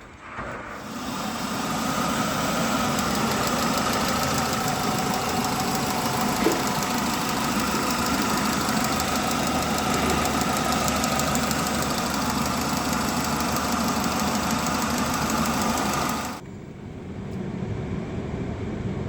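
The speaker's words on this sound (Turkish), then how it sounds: "Fazla basmadan, devri yükseltmeden 15-20 dakika geçmesini bekliyorum" A car engine idles steadily at low revs for about sixteen seconds while radiator cleaner circulates through the cooling system, then the sound drops to a quieter hum.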